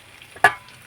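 Cooked chicken is turned in a pan in a single short, close scrape-and-sizzle stroke, with faint quiet around it.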